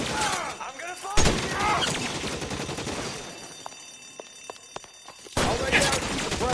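Bursts of rapid gunfire from an LA Noire shootout crack out in heavy volleys, fading to scattered single shots before another loud fusillade erupts.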